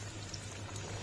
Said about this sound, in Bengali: এটাকে দেখো আমি ভাজতে শুরু করে দিয়েছি।